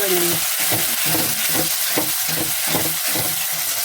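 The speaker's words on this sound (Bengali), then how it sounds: "এটা একটু ভাজা ভাজা হচ্ছে। এবার দিয়ে দিচ্ছি টমেটো।" Grated tomatoes frying in a pan, with a steady broadband sizzle and a regular rhythm of spatula scrapes and stirs, about two per second, close and fairly loud throughout.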